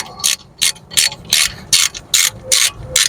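A ratchet clicks in eight quick, even bursts while undoing 10mm bolts on the front suspension of a Cadillac SRX during a front shock replacement, close and clear with no talk.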